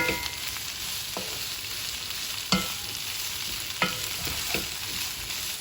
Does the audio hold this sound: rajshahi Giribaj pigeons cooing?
no